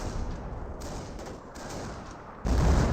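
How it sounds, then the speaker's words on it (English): Howitzer fire from an M2 in Company of Heroes, a World War II strategy game, landing as a dense run of gunfire-like blasts and rumbling impacts that ends in a heavier, louder burst, with no talking. "M2 howitzer finds a good hit there on the MG42, and a good hit there on the Grenadier."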